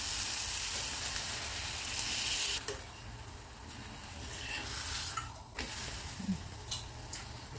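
Oil sizzles around a bajri thepla on a hot pan over a medium flame. A loud, dense hiss fades after a few seconds to a softer, steady crackle with scattered small pops, and no voices.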